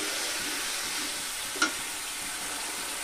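Onion and garlic frying in a pan with turmeric and salt, a steady soft sizzle throughout with one brief stir or clink near the middle, alone with no voices.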